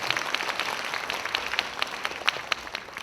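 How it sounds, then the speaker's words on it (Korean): An audience at a school admissions strategy seminar in an atrium applauds with steady, dense clapping at moderate loudness, with sharper individual claps standing out and no talk over it. "박수로 맞이해 주시기 바랍니다."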